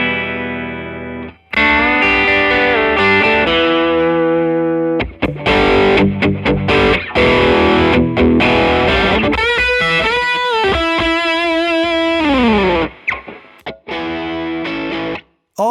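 Bluesy electric guitar licks picked up by a Neumann TLM102 condenser microphone, loud and distorted with some effects colouring, playing near continuously in phrases with short breaks and sustained bent notes, no talking.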